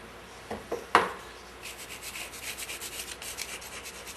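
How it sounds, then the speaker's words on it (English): A scraper rasps across a flat metal surface, lifting heavy crud and paint off a Meyer E-47 part. A few sharp knocks come first, then a long run of quick, close scraping strokes. "It's got some heavy crud on here that we can just scrape off with a scraper."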